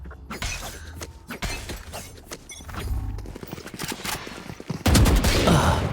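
Gunfire in the tactical shooter Valorant, a dense run of sharp cracks and bursts layered over game effects, with a louder stretch near the end; a player talks over parts of it.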